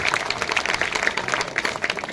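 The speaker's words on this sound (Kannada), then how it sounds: "ಅವ್ರಿಗೆಲ್ಲ ಒಂದು ಅಭಿನಂದನ ಚಪ್ಪಾಳೆಯನ್ನು ನೋಡಿಬೇಕಾಗುತ್ತೆ" Applause for police staff at a peace meeting in Islampur lane, Kasabapet area, Hubballi: a steady patter of many hands clapping together, moderately distant, continuing without a break.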